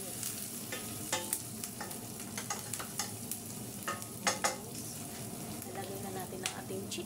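Marinated chicken fries in a pan with a soft, steady sizzle, broken by scattered utensil scrapes and clinks as it is stirred, fairly quiet and close.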